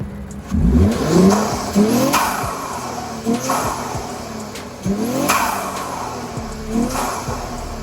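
A 2017 Infiniti Q60 Red Sport twin-turbo V6 with DIY intakes, a vented hood and an air suspension revs repeatedly, each loud, rising blip falling away in a rough pulsing rhythm, close by.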